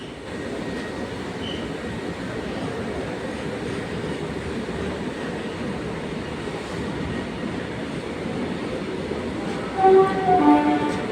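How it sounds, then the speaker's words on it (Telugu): A train rolls along with a constant, loud rumble and clatter, and a few tonal, horn-like wails rise above it near the end. "ఈ ట్రైన్ ఎక్కడ పోతుంది?"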